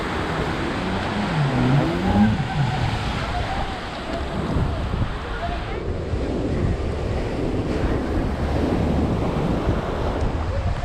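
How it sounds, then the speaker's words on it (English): Heavy surf crashes and roars continuously at Anjuna beach, Goa, breaking high waves mixed with strong wind buffeting, loud and close with no pause. "The waves are very high."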